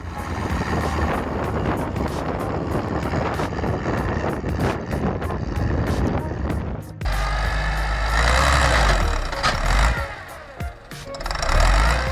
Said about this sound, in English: The engine roars again.